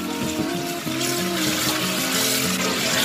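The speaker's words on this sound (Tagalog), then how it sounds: "Hugasan naman po natin para mawala naman po yung alat ng ating ampalaya" Running water from a tap pours loudly and steadily over squeezed, salted bitter melon (ampalaya) as it is rinsed by hand, with a continuous close splash.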